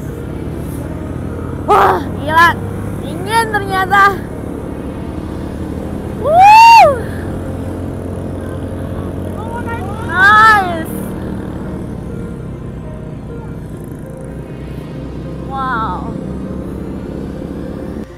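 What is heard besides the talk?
motorcycle taxi ride up to Bromo summit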